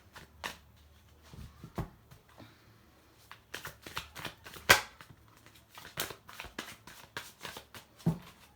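Tarot cards being shuffled and handled close up: soft riffles and crisp flicks and taps come in irregular clusters, fairly quiet, with no voice over them.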